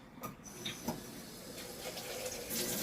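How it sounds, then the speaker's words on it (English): Water is tipped out of a makeup brush cleaner bowl and splashes in a steady pouring stream close by, with a few small spatters at the start and a brief rush near the end. "So I'm gonna throw this water out"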